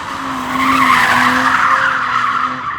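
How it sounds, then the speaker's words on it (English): A car's tyres screech steadily as it slides out of a corner under throttle, a loud, sustained squeal lasting about three seconds with no talking. "you can bung this thing into a corner and apply the throttle and it'll slide out on you"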